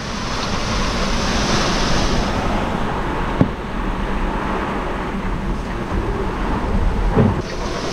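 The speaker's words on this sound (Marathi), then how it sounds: "निघता निघता पाऊस बघा केवढा आलाय" Heavy monsoon rain pours down at a Konkan Railway station as a dense, steady roar, broken by a couple of sharp knocks, with no voices.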